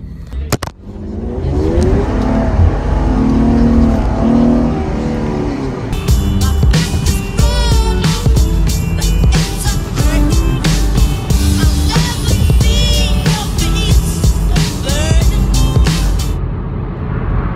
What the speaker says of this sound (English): now I'm riding in a freaking little Mustang